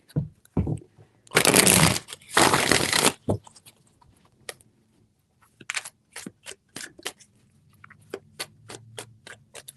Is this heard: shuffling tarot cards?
yes